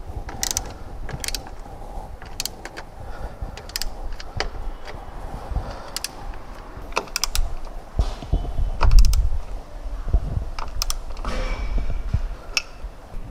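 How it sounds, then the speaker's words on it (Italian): A ratchet with a 10 mm socket tightens roof rail bolts on a FIAT Panda 169, giving repeated sharp clicking bursts over quiet background handling noise, close up and without speech. "Ed infine andiamo a stringere i due bulloni con cricchetto e bussola da 10."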